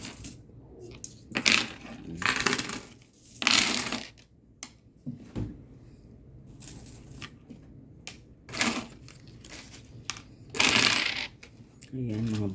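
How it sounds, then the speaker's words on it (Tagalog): Coins clatter into a Red Horse coin bank in repeated bursts of metallic jingling, some long pours and some short single drops, close and fairly loud with quiet gaps between. "Mga barya-barya lang naman to."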